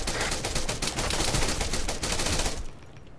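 Rapid automatic gunfire from the Arma 3 military video game rattles out in a dense, loud stream of shots that cuts off abruptly near the end, leaving a quieter tail.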